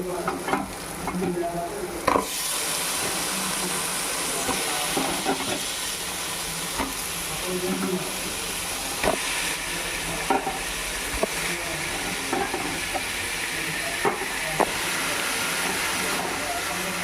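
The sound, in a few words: chicken sizzling as it is added to the biryani masala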